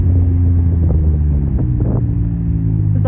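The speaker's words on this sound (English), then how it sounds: "There's one of the cars from the Ferrari Challenge." A Ferrari Formula Classic racing car's engine rumbles at close range in a paddock at a historic motor racing festival, a steady low, loud drone holding throughout with faint rising rev sweeps near the end.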